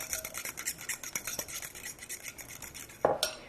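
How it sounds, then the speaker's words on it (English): Two ripe bananas being mashed with a utensil in a clear bowl for gluten-free blueberry breakfast cookies, giving a steady run of soft squishing scrapes and light clinks close to the microphone, ending in a louder knock against the bowl. "you're just going to take and mash 2 regular-sized bananas up"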